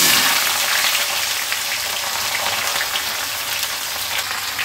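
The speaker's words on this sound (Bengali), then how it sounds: "এবার আমি লতিটা ঢেলে দেবো ফোড়ন।" Chopped taro stolons go into hot oil with mustard tempering, setting off a loud, dense crackling sizzle that begins strongly and settles into a steady hiss, close by with no talk.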